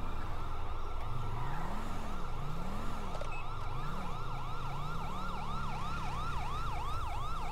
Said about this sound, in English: the siren won't turn off